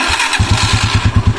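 A motorcycle engine fires up after its battery has been repaired, catching about a third of a second in and settling into a loud, close, steady chugging beat.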